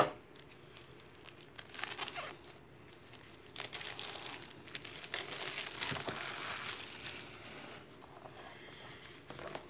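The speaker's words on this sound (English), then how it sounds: "I'm just gonna cut the edge of this." Cardboard and plastic shrink-wrap packaging on a RIFTS tabletop box set is cut open along its edge, with close crinkling, tearing and rustling in irregular bursts, fairly quiet overall.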